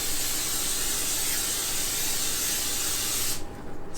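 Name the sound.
coconut oil cooking spray sprayed into a preheating pan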